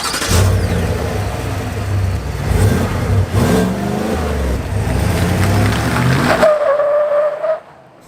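A Chevy Silverado ZR2 with a 6.2 V8 on its stock exhaust revs and accelerates loudly and close, with a brief tire-squeal-like whine near the end before it cuts off.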